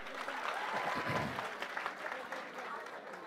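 Audience applause fills a teaching-centre hall after a results celebration, a steady dense clatter of many hands at moderate level, with faint crowd voices mixed underneath.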